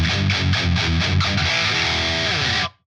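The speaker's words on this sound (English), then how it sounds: "Now, chugging riffs sound like this." Chugging riff on a heavily distorted electric guitar, loud rhythmic low palm-muted pulses that give way to a ringing chord before cutting off abruptly into silence.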